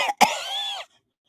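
A speaker imitating a woman's concerning cough, a single close harsh cough followed by a drawn-out rasping, throat-clearing tail, then silence.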